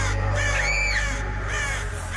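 A crow caws loudly and close, several harsh, drawn-out calls in quick succession over a steady low hum.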